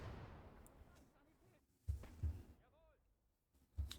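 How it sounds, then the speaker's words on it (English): Mortar rounds landing in the WWII game Gates of Hell: Ostfront, a handful of heavy low thuds spaced out over a few seconds amid battlefield rumble, with a voice speaking over the action. "Mortars coming in."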